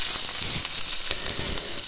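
Chopped garlic and dried fish fry in hot oil, a loud, dense sizzle close at hand with a few soft stirring scrapes, and no voices over it.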